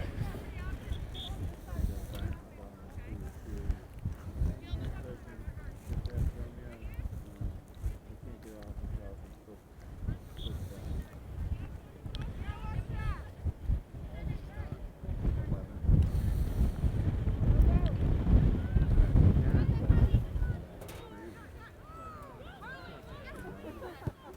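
Wind gusts at an outdoor girls' varsity high school soccer game buffet the microphone as a low rumbling roar that builds to its strongest near the end, mixed under steady commentator speech.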